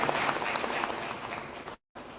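A dense wash of applause from an audience at a presidential induction ceremony for ministers, loud and even throughout before cutting off abruptly near the end.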